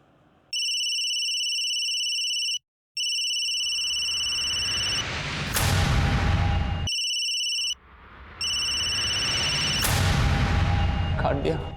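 A phone rings for a video call with a steady electronic tone that repeats in two long rings separated by short gaps. Loud thuds and crashes cut across each ring near its end.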